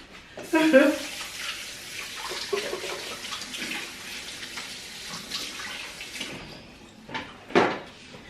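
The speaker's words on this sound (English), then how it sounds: "I gotta wash my hands again because I got them sticky again" Hands washed under a running kitchen sink tap while making fathead dough, water gushing and splashing close by, with a clatter at the start and a louder burst near the end.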